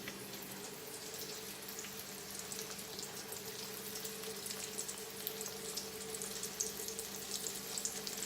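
Beef cutlets fry on a slow fire, giving a faint, even sizzle with small crackles and a low steady hum underneath.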